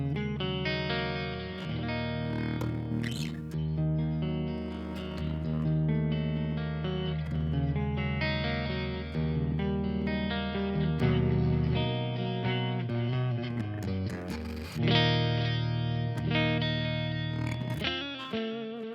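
An electric guitar plays clean, ringing chords and single notes through a KSR Ceres amp plugin with a touch of effects, steady and unaccompanied.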